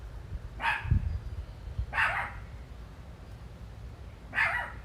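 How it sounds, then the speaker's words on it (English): A small female dog gives three sharp, separate barks spaced a second or two apart, fairly close and loud over a low background rumble. "For a small dog, she has a big bark."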